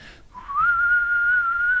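A steady high-pitched electrical whistle comes from a failing KTM motorcycle battery, rising slightly in pitch and then holding a continuous thin tone, faint and close, with no other sounds.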